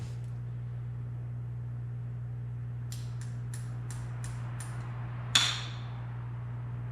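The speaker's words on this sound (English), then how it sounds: "Let's just grab the hammer. We'll tap it on." A hammer taps a U-joint cap onto a 1996 Jeep Cherokee front axle six times in a quick, even series, then one harder ringing strike, over a steady low hum.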